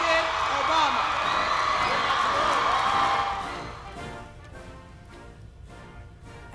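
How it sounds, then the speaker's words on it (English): Large crowd at Lawson State roars and cheers as President Obama appears, a loud sustained wash of whoops and applause that fades after a few seconds, with someone speaking over it. "And there you hear the crowd just going crazy as President Obama makes his appearance there at Lawson State."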